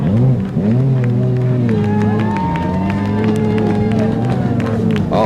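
A motocross race crowd cheers loudly and steadily, mixed with engine whine from bikes rising and falling beneath it and a voice talking over the top.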